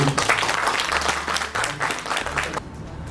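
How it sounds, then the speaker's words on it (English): Loud audience applause at a hospital otolaryngology department's World Disability Day event, dense clapping with some distinct nearby claps, cutting off abruptly near the end. "I should request the whole audience to have loud applause"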